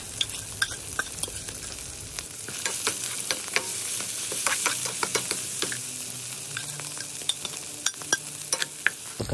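Longganisa sausage and chili stir-fry in a hot pan, making a close, continuous sizzle punctuated by frequent sharp scrapes and clicks of stirring.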